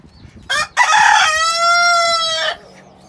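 A rooster crows loudly and close by, one long drawn-out call after a short clucking burst, with no talking.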